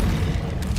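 The Incendio fire spell in Hogwarts Legacy goes off as a single loud, low boom that bursts at once and fades out over under a second.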